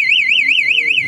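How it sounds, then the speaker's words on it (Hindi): A loud electronic car alarm horn wails in a rapid warbling siren pattern as the car locks, close by and continuous. "यहाँ से इसका हॉर्न बज रहा है"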